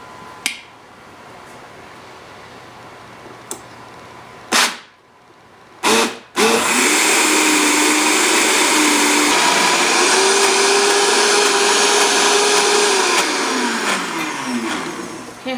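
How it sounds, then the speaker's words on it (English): A kitchen blender whirs through yeast and cardamom batter for rice cakes, first a low background hum with brief clicks and short bursts, then a loud sustained motor whine lasting over nine seconds that drifts in pitch as the batter thickens. "we're going to start blending this"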